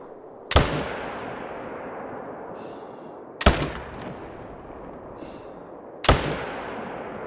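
High caliber rifle firing in the hunting game theHunter Call of the Wild: three loud, sharp shots spaced about three seconds apart, each trailing off in a long, rolling echo.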